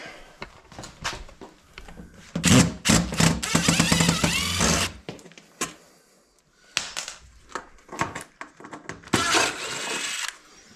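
Screws being removed from the frame of a patio sliding door come out in several short, loud bursts of tool noise separated by quiet pauses, close by, with no talking.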